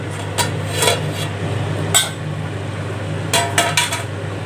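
Metal clinks and scrapes as the lid comes off a pot of country chicken dum biryani, a few short bright taps over a steady low hum, close by.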